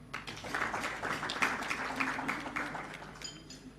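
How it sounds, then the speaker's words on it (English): Audience clapping for a speaker at a public meeting on the NSSF pension fund, a steady patter of many hands sustained throughout, moderately loud with no talk over it. "I request that you clap for him"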